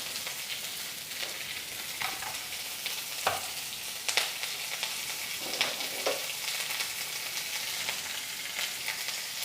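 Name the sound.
onion, dried chilli and curry leaves sizzling in pan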